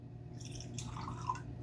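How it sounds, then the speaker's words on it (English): Bourbon whiskey poured from a bottle into a glass, a short close trickle of splashing liquid with small drips and a bright gurgle near the end, quiet and alone. "This is bottle C. We will pour that into glass C over here."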